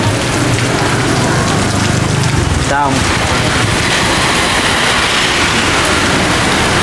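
Heavy rain pours down in Saigon with a steady, dense hiss throughout, and a voice speaks briefly over it partway through.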